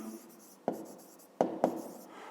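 Someone writes by hand in a Grade 5 maths exercise, the quiet scratch of a pen broken by a few sharp taps. A faint voice is audible in the background.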